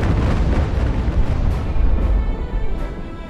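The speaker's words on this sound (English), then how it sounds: "They've got some gunfire coming off them now." Ship cannons fire in the naval battle game Ultimate Admiral: Age of Sail at the Battle of the Nile, a dense run of heavy, overlapping booms and deep rumbling that stays loud and continuous throughout.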